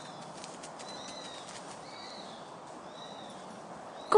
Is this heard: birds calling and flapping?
yes